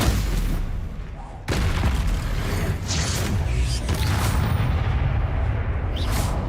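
Spell explosions from the Bombarda and Confringo spells in the video game Hogwarts Legacy, played on a PC, come as heavy booming blasts and rumbling impacts one after another, loud and dense, with game sound layered throughout.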